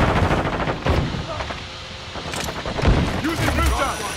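Gunfire crackles through a Call of Duty: Modern Warfare II match, several loud bursts and single shots scattered across a busy battle mix, with game voices talking in between.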